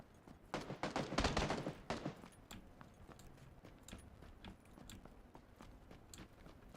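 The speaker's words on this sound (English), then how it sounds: "we need to go find these people who are firing at one another" Gunfire sounds in a PlayerUnknown's Battlegrounds match, with a burst of fairly distant rapid shots followed by scattered single cracks and pops. Everything stays faint and sits over quiet game ambience.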